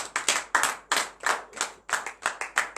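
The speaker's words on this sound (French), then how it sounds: "Donnez l'acclamation à Jésus." A small congregation at a morning prayer service claps in an uneven rhythm, about a dozen sharp, close hand claps spaced irregularly across a few seconds, with no voices heard between them.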